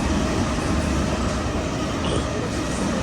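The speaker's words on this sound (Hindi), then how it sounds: "ये जो ट्रेन आई है ना, ये सिटी की तरफ जाती है." A Sydney train pulls in at Rockdale Station, a steady, close rumble of wheels and carriages that stays loud and even throughout, with no voices over it.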